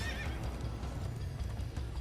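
A horse in the video game Minecraft Story Mode lets out a short whinny over steady clip-clop hoofbeats and a low rumbling background. The call sits near the start and the hooves carry on to the end.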